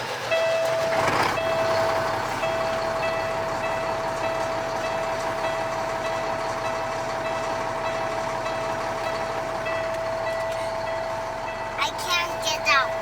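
Idling diesel engine of a 2006 Peterbilt 378 dump truck, a steady low rumble with a constant whine, heard up close from the cab for the whole stretch, with a few faint sounds near the end.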